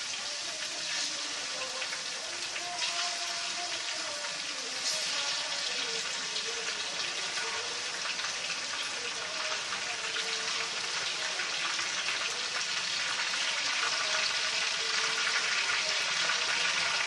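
Chicken pieces frying in a pan with light-browned ginger garlic paste for a pulao, a steady, loud broadband sizzle holding evenly throughout with no talking.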